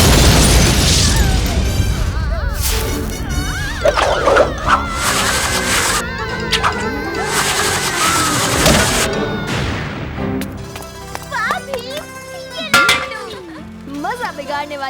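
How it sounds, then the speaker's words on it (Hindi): Cartoon fireworks burst in a festive Navratri animated scene, with booms, pops and glittering crackles over music while characters talk throughout. "किसे पता था कि चिरागी और बुरी परी के फटने पर इतनी अच्छी आतिशबाजी होगी।"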